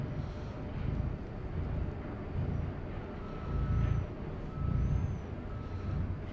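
A heavy truck in Euro Truck Simulator 2 pulls away with a low, steady engine rumble that swells in waves as it moves off, with a couple of faint high tones above.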